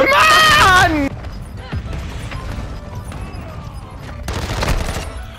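Weapon fired from the hip in Modern Warfare 2 cracks out in a few sharp shots amid game noise, following a loud opening burst of voice or effect, with a final cluster of gunfire near the end.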